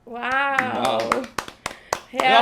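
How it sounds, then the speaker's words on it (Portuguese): A vocal coach claps a few times after a singing performance. A handful of sharp, separate hand claps follow a stretch of close talking, with more talk returning at the end. "Eu aplaudo de novo."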